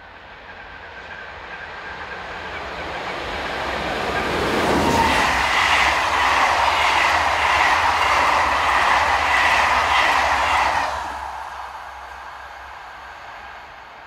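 An SNCF BB15000 electric locomotive hauls a Cherbourg to Paris passenger train past Beaumont-le-Roger, swelling from a distant rumble to a loud close pass with rhythmic clickety-clack of wheels over rail joints, then fading away.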